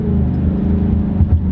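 A 2018 Mustang GT with a 10-speed automatic accelerates with a loud, close engine rumble. Its pitch climbs, and the tone shifts briefly around gear changes.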